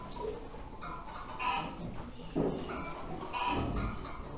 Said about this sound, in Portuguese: Olha, tem uma galinha, pessoal.